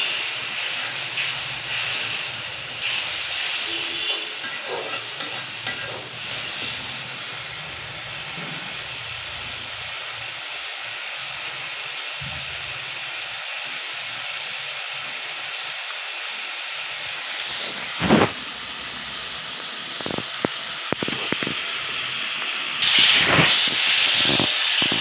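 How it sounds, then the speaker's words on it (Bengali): Spice paste sizzles and hisses in a hot pan during village cooking of koi fish with ol kochu, a steady loud frying hiss with a few sharp scrapes and clatters near the end. "এখন আমরা মশলাটা একটু কষাইয়ে নেব।"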